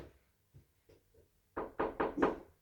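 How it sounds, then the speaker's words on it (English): Knocking on a door, a few soft scattered taps followed by four loud, evenly spaced raps close by, with no talking. "So knock the door harder."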